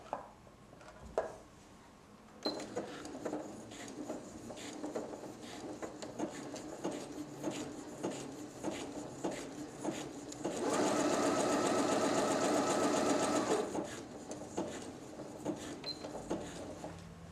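A Janome XL601 sewing machine runs a zigzag stitch: a steady rapid mechanical chatter with brief starts and stops, then a louder sustained burst of sewing near the end before it slows again.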